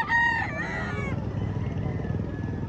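A rooster, a fighting cock offered for sale, crows once near and clearly, its call rising and then trailing off over a constant hum of background noise.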